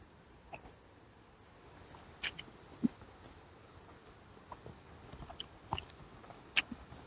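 Someone eating crunchy rehydrated camp food outdoors as a storm moves in, with sparse, quiet crunches and sharp bites spread irregularly over a faint hiss.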